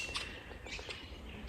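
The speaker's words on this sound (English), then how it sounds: "Bellbirds and whipbirds." Bellbirds and whipbirds call in coastal bush along the Light to Light track, bright high chirps and short ringing notes repeating at moderate distance over a soft steady background, no talking.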